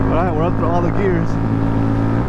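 A Honda Grom motorcycle shifting up through its gears, with the engine note rising and dropping in quick wavering pitch sweeps over a continuous close drone and wind rush.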